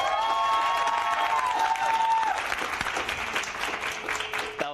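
A conference audience at an event applauds and cheers loudly, a dense wash of clapping with shrill whoops and yells that rises then tapers slightly.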